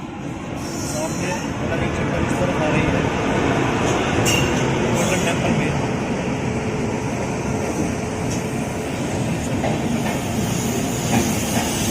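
An Indian Railways Duronto express moves along the rails after departure from Kota, giving a steady loud rumble and rattling hiss heard from inside the coach for about twelve seconds, with faint voices at times.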